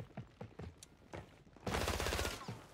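Bursts of SMG fire in the shooter game Warzone 3, preceded by scattered footsteps and movement, then a sustained loud burst of rapid automatic shots lasting about a second.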